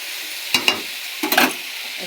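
Fish curry masala sautéed in a pan, heard as a quiet sizzle broken by a few sharp, close scrapes and clatters of stirring, two near the start and a cluster in the second half.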